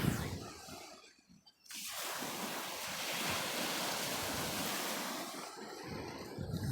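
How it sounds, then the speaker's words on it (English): Ocean waves crashing on a shoreline: a brief lull, then a long, loud roaring wash of surf with wind noise, swelling and slowly fading, no voices. "every wave that crashes up on the shoreline"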